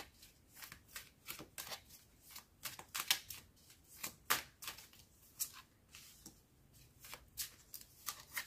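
Tarot cards being shuffled by hand for a new spread, with a close, quiet run of riffling flutters and soft slaps in an uneven rhythm, alone without talk.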